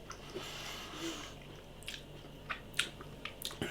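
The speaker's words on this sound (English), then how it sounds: "Absolutely, I can't stop eating these." Close, quiet bites and chewing of batter-coated Brew City pickle fries, a few soft crunches and squishy chomps scattered over a few seconds.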